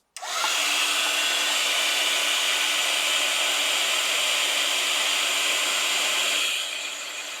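A heat gun blows a steady, loud, broadband roar while heat-setting embossing powder on a craft page, running for about six seconds before it begins to fade.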